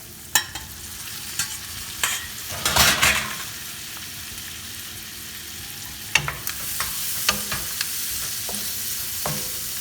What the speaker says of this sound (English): to this we're going to add my beef, which we have fried